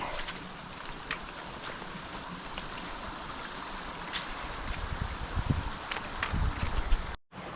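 A big creek at a trail crossing on a forest loop near Toccoa, Georgia rushes steadily, a constant broad wash of flowing water with occasional louder splashes and brief bumps near the microphone.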